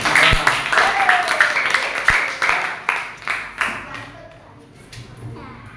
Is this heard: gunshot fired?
no